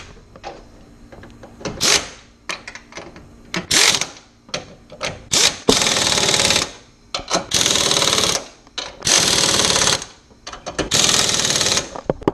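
Strut top nuts on a Mustang GT suspension are tightened with a power tool, giving repeated loud rattling bursts of varied length separated by brief pauses and softer clicks.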